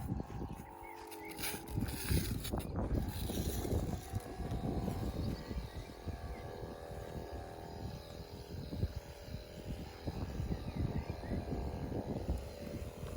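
A motorized garden sprayer's small engine drones continuously with a rough, buzzing hum, close by and steady, with some fluctuations in intensity throughout.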